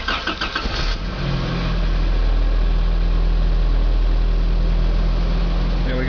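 A car engine cranks briefly, catches, and settles into a steady low idle with a constant hum that stays loud and close to the end.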